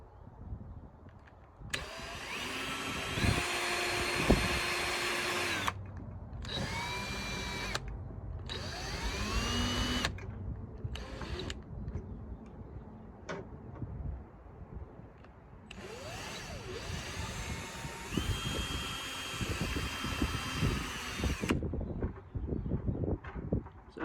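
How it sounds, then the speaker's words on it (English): A power drill bores pilot holes and drives screws while gunnel bolsters are fitted to an 18-foot Outrage boat, whining in several loud bursts that rise and fall in pitch, separated by short pauses, close to the microphone, with no talk. "drilling the pilot holes and sinking the screws in one at a time"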